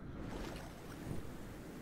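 A waterfall in the video game Cultic gives a steady, very quiet rushing wash of water with no breaks.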